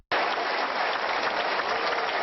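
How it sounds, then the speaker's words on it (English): Crowds applaud Prince Harry and Meghan outdoors at a public engagement, a steady, even wash of clapping from many hands at a moderate distance, alone and without voices. "Everywhere they went, there was applause, more applause, and even more applause."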